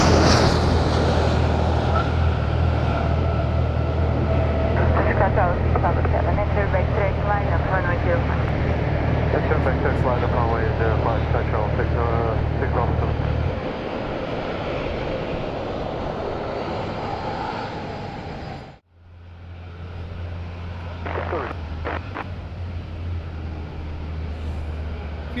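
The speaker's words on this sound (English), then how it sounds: "Great landing by Tui, nicely done." A TUI airliner landing at Madeira airport in gusty wind, its engines a loud steady roar with a low drone that drops partway through, then briefly cuts before continuing, with a radio voice crackling over it.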